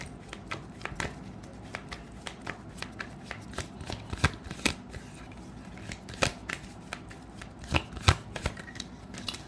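A tarot deck is shuffled and cards are drawn close by, with repeated crisp riffling bursts and sharp card snaps at irregular intervals.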